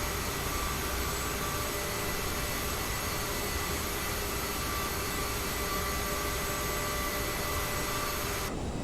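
Steady, even whine and rush of the jet engines on an Aerosoft CRJ regional jet taxiing in a flight simulator, constant and unbroken at moderate loudness with no talk.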